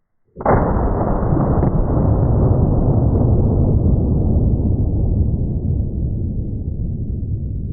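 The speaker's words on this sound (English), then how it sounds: "Second shot was the buckshot." A single loud, close buckshot shotgun blast fired at a mega Furby booms out with a sharp onset, then a long rumbling echo fades slowly over several seconds.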